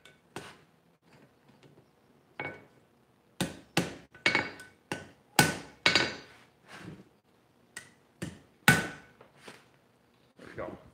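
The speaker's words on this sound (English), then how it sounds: "fantastic hammer, but I find for forge welding, as you have stated, it's a bit heavy" Hammer blows on hot steel at a forge while chain links are scarfed and forge welded, coming as sharp ringing strikes in uneven bursts with quieter gaps between them.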